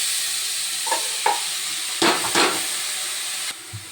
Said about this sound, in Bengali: এখন কলই শাকগুলো তেলে দিয়ে দেব।